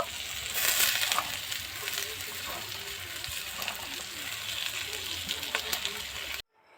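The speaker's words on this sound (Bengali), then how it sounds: "এবার কুচিয়ে রাখা বাঁধাকপি দিয়ে দেব" Chopped cabbage hits a hot pan with green peas and split green chillies, giving a continuous close sizzle with stirring scrapes before cutting off abruptly.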